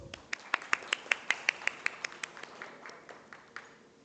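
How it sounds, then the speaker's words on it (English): Clapping welcomes a panellist at a leadership conclave, a small cluster of crisp, evenly spaced claps that starts strong and trails off into scattered, fainter hits. "with a big round of applause"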